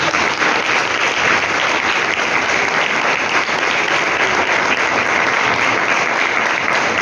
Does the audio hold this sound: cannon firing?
no